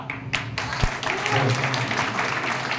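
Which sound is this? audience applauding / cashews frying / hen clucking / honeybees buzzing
audience applauding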